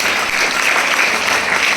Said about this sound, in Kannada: ಸ್ವಲ್ಪ ಜೋರಾಗಿ ಚಪ್ಪಾಳೆ ತಟ್ಟಿ